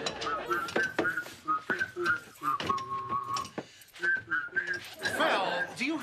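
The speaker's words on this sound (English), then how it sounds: "do you have to whistle like that while you work?" A man whistles a bouncy, choppy tune while working in a kitchen, with short melodic phrases broken by pauses and soft clattering, heard close and fairly loud.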